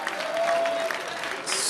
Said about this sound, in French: Est-ce qu'on peut le raccompagner avec des applaudissements, s'il vous plaît?